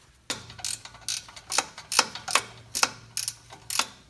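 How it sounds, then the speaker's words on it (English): A ratchet torques down an upstream oxygen sensor on a 2001 Toyota Tacoma, giving about a dozen crisp, close clicks in short uneven strokes, with no talking. "Start them by hand and then we're going to torque them down."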